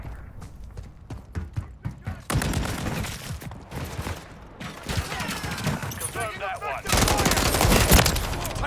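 Gunfire in Call of Duty Modern Warfare III on the Scrapyard map: rapid automatic bursts and crackling shots pile up in dense, loud waves, with a voice talking over the battle.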